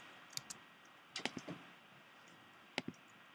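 Mouse clicks on a computer during a game-building tutorial, a handful of faint, sharp clicks in small clusters over quiet background hiss, no talking.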